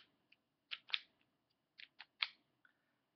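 Several sharp, quiet clicks come in small irregular clusters, close by, in an otherwise silent space, as a homemade Nerf blaster turret turns and clicks into place.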